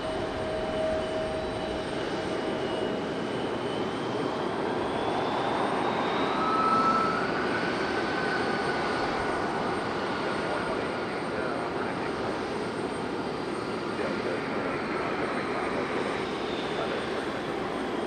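Embraer E-175 regional jet engines whining steadily at Raleigh-Durham International Airport, a continuous broadband roar with a faint rising tone, heard at a distance with light voices in the background.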